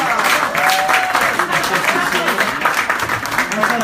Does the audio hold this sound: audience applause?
yes